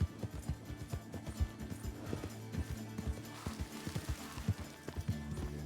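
Horse hooves clip-clopping at a quick, galloping rhythm in the video game Red Dead Redemption 2, a steady stream of thudding beats at moderate level with no talk over them.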